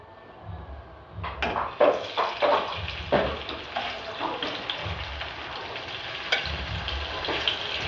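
Tofu frying in hot cooking oil gives a steady sizzle with bursts of crackling and popping, with soft low clatters from a pan, and no one talking.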